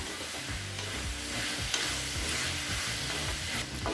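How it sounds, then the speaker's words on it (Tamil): Mixed vegetables, including drumstick and brinjal, sautéed and stirred in a pan for a village-style kootanchoru, with a steady close sizzle and repeated scraping stir strokes, no voices. "இப்போ எல்லா காயும் சேர்த்துட்டு நல்லா வதக்கிக்கலாம்"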